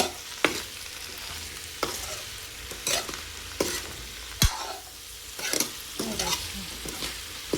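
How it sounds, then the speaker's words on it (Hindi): Vegetables sizzling in a hot pan as a tempering is stirred in, a steady crackling fry with intermittent scraping strokes of a spoon and a sharp clink, close and clear with no voices. "सब्जी मैंने छोंक दी है"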